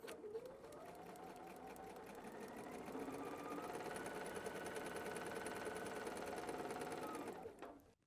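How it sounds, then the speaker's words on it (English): A sewing machine stitching quilt fabric for foundation paper piecing runs in one continuous fast mechanical whir and rapid needle chatter, close and steady for several seconds before winding down, no talk. "we can just sew right off. So let's sew once again."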